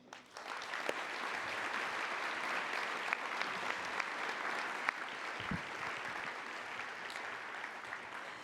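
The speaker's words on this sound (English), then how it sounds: "I would like us all to give a round of applause for all of those people" An audience at a Dana-Farber Marathon Challenge pasta party applauds, a continuous, even roar of clapping from a large indoor crowd that holds steady for several seconds with no talk over it.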